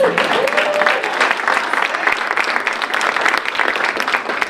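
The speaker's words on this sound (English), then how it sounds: "Give yourselves a round of applause." A large town hall audience hosted by the Kansas governor bursts into sustained applause, a loud, steady wash of many hands clapping, with a few voices briefly rising at the start.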